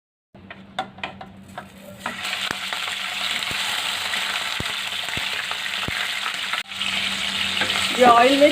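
Chicken frying in hot oil in a pan; after a few light clinks, a steady close sizzle sets in with sharp spatter pops and ticks, briefly dipping then swelling louder toward the end.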